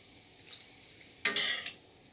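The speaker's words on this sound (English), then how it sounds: "We are going to add diced tomatoes" Canned diced tomatoes, Italian-style, tipped into a pot for cabbage rolls, heard as a faint clink followed by a single brief, wet splattering slide lasting about half a second, close and alone.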